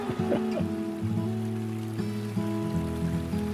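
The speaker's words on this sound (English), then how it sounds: "I love standing there listening to the creek." A Catskills creek runs steadily outside a bedroom window, a continuous close wash of flowing water under a faint layer of tonal hum.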